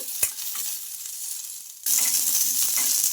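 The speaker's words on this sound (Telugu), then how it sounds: "ఇందులోకి మిర్చి అయితే మనం బాగా ఫ్రై చేసుకోవాలి" Chillies frying in a spoonful of oil in a kadai, with a steady hiss that jumps louder partway through, plus a brief knock early on.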